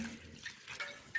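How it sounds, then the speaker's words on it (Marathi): A little water trickles into oiled flour for pea paratha dough, a brief, soft, near splash and pour with no talk. "थोडंसं पाणी घालूया."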